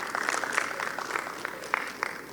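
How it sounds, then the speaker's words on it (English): A modest audience at an agriculture expo on climate resilience applauds as Dr. Malhotra is welcomed. Scattered, fairly sparse claps are heard, with some individual sharp claps standing out, over a low hum. "Please give him a big round of applause."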